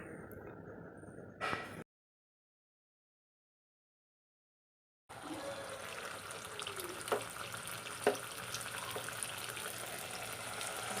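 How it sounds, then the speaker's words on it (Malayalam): Vada fries in hot oil in a pan, a steady close crackling sizzle that begins after a short gap of silence, with a few louder pops over the continuous hiss and no talk. "ഓയിൽ നന്നായിട്ട് ചൂടായി വന്ന് കഴിഞ്ഞിട്ട് നമുക്കിനി അതിലേക്ക് പരത്തി വെച്ചിരിക്കുന്ന ഓരോന്ന് നമുക്ക് ഇട്ട് കൊടുക്കാം"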